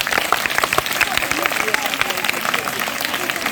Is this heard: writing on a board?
no